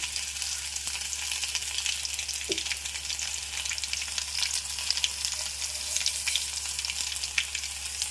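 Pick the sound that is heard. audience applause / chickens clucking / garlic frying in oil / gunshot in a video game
garlic frying in oil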